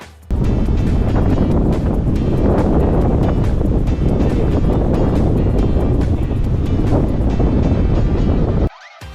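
Strong wind buffets the open deck of a cruise ship at sea as a constant loud roar of gusting air across the microphone. Water noise sits underneath, and the roar cuts out abruptly at the end.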